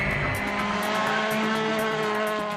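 Volkswagen Polo R WRC turbocharged four-cylinder rally car of almost 300 horsepower accelerating, heard from the cockpit as a loud, steady engine roar with rising tones and a rapid pulsing crackle on top.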